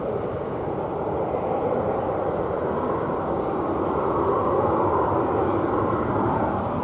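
Engine roar of an American Airlines Boeing 737-800 on flight 2846 to Salt Lake City at DFW Airport, a broad, steady jet rumble holding loud and continuous throughout with no talk.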